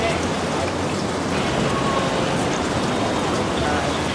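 Heavy rain falls outdoors on a Hanoi street, a dense, steady hiss of drops on surfaces that stays loud and unbroken throughout.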